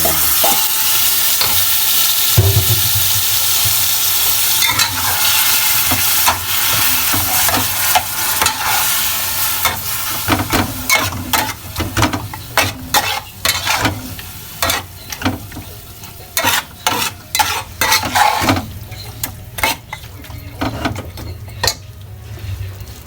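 Chicken pieces fry for a chicken curry in a pan, with a steady sizzle under repeated scraping and clattering stirs of a utensil against the metal. The stirring turns busier and more rhythmic over the second half, and no voice is heard.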